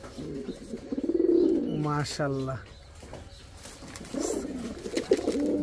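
A pair of Tula pigeons cooing without pause, loud close rolling coos with a burst of wing flaps, while someone speaks briefly in between.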